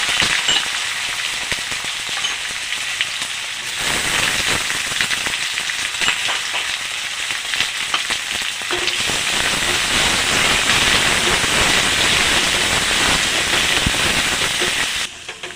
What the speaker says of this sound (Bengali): ফোড়নটা ভাজা হয়ে গেছে, দিয়ে দেবো কুচানো পেঁয়াজ